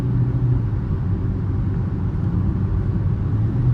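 Steady low road rumble and engine drone fill the cabin of a 2022 Hyundai Creta Action 1.6 petrol SUV cruising on the highway, loud and constant with no talking.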